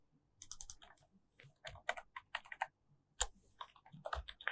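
Typing on a computer keyboard comes as irregular bursts of close, crisp key clicks with short pauses between words, alone and with no talking.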